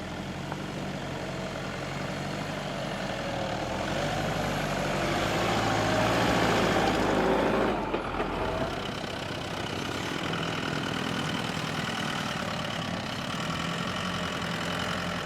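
A stock Toyota Fortuner 4x4 engine runs steadily on a quarry off-road track, a continuous mid-pitched drone that swells slightly louder midway before settling back to an even idle-like hum, with no talking.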